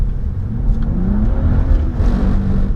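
A 2015 BMW 435i driven at full throttle on a performance track: a loud, sustained engine roar with a rising pitch, heard from inside the car with no talking.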